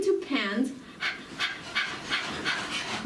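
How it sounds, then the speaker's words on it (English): Several people do a breath-of-fire panting exercise with mouths open, breathing like a dog in quick, even, breathy huffs, roughly two per second, close and steady. A voice is heard briefly at the start. "So open up your mouth and begin to pant"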